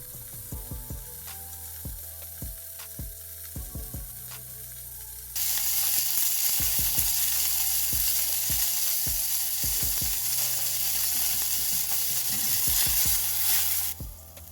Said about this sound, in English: Make sure to get a good sear on the edges of the steak as well to render out the fat.